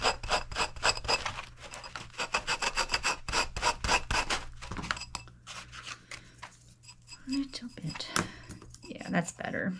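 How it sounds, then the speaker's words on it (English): Sanding cured UV resin on a clear wine glass, a dense rapid rasping scrub in close, continuous strokes, with a voice speaking over parts of it. "I am going to have to sand that down a little bit more."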